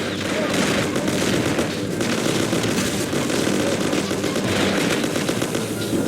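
Dense gunfire in the Mafia video game, continuous rapid shots and bursts layered over each other, loud and unbroken from start to finish.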